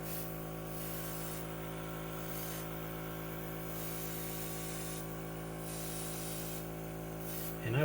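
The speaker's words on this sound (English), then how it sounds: "And I like just spraying it down." An airbrush spraying paint onto a monster miniature: a steady, close hiss of air that pulses as the spray is repeatedly triggered on and off, with a low constant hum underneath and no talking.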